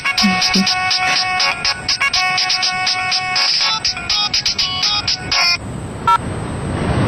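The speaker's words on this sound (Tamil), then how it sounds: "என் பொண்ணோட ஸ்கூல்ல இருந்து போன் வந்தது" A mobile phone rings with a call from a daughter's school, a loud, repeating melodic ringtone that plays for about five seconds and then stops, leaving faint traffic noise.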